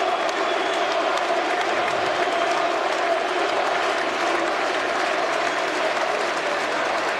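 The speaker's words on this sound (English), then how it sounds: "Cries of Mirko ring around the Turon Arena. Very happy crowd to see him back." At the Turon Arena, a large fight crowd roars and applauds steadily for Mirko Cro Cop, a dense, continuous wash of cheering and clapping that holds level for the whole stretch.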